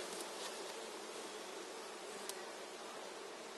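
Honeybees buzz in a dense, steady swarm as they leave a hive being moved, a constant close hum with no talk.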